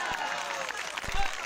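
A revival meeting congregation applauds, a dense wash of clapping from a crowd, moderately loud and brief, with a voice over it.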